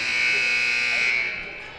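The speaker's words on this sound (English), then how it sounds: "Here's the buzzer." A loud, sustained electronic buzzer sounds in a high school gym at the end of a basketball half, holding steady for over a second before fading, with crowd noise beneath.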